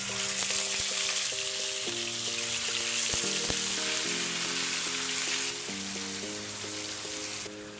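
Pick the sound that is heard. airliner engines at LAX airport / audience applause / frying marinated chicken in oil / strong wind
frying marinated chicken in oil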